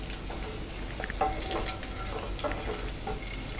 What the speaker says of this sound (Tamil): இன்னும் ஒரு நிமிஷம் நல்லா ஃப்ரை ஆகட்டும்